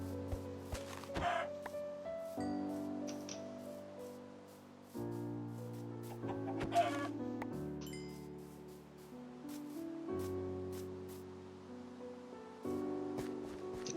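Chickens clucking in the video game Minecraft, short bursts of clucks recurring over a steady bed of game music, no speech.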